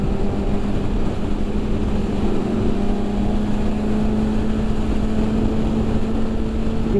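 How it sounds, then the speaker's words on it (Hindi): A 2019 BMW S1000RR motorcycle engine at low rpm hums steadily and close, a continuous tonal drone with wind rush throughout and no talk. "इसका जो साउंड है ना इतना बेहतरीन है लो आरपीएम से भी."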